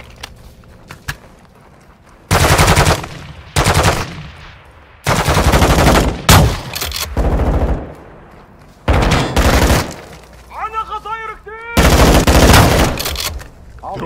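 Gunfire exchange in the video game Call of Duty Modern Warfare 2, with loud bursts of automatic fire in several long volleys separated by short lulls and some radio chatter.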